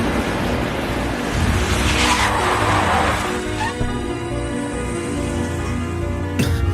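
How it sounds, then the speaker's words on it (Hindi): A car brakes hard to a stop on a road, tires skidding and squealing over a loud, continuous engine and road roar that fills the clip, ending with a sharp burst. "ड्राइवर, कहा ना गाड़ी रोको।"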